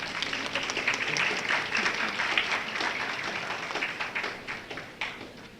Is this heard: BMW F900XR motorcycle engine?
no